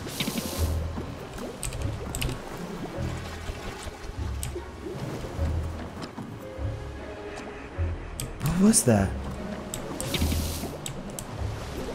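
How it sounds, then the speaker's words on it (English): Suspicious bubbling in the video game Don't Starve, a burst of gurgling, rising bubbles around the middle, over game ambience of drips and squishy sounds, with a voice asking a brief question. "Investigate suspicious bubbling."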